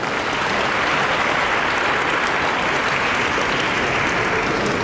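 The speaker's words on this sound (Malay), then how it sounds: "Tepukan gemuruh untuk Umar." Thunderous applause from a seated audience at a Malay-language talk session, a dense, steady roar of many hands clapping at once that holds loud and even throughout.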